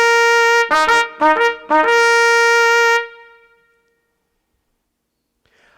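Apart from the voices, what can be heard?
trumpet blasts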